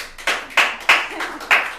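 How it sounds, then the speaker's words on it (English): An audience at a Free Fringe comedy show claps in five sharp, uneven bursts, loud and close, with no talk over them. "I didn't say clap, guys."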